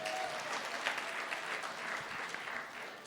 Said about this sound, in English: A round of applause for that question.